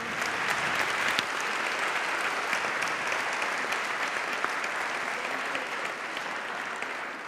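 Sustained applause from a large audience at a French conference, a dense, even wash of clapping with a few sharper claps standing out, continuing without pause.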